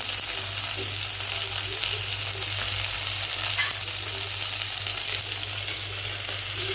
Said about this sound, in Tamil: தக்காளியை போட்டு வதக்கிக்கலாம்.